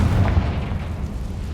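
Confringo blasting spell from Hogwarts Legacy, a single heavy explosive boom with deep rumbling low end that decays quickly, loud and close, no speech.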